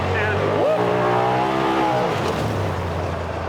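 A Polaris side-by-side off-road vehicle on a dirt trail, running in high gear; its engine drones steadily and surges as the throttle opens, with people talking loudly over it throughout.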